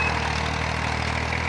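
A 1992 Massey Ferguson 240 tractor engine idles with a steady, continuous mid-to-low rumble and faint knocking, close and constant for the whole stretch.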